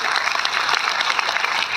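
Dense, loud clapping from a large crowd at an outdoor poetry gathering (kavi sammelan) at Ramna Maidan in Arrah, Bihar, continuing evenly throughout.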